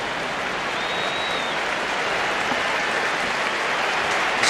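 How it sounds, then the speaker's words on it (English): Stadium crowd of Barcelona fans applauding the Arsenal players at the 2019 Joan Gamper Trophy preseason football match, a broad continuous wash of clapping from a distant mass of fans, steady throughout. "Sporting applause from the"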